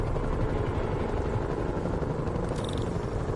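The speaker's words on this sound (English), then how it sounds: "Bet I can use those helicopters to swing." Helicopters flying in a video game, a steady loud rotor and engine roar with a constant chopping drone that holds level throughout and has no talk over it.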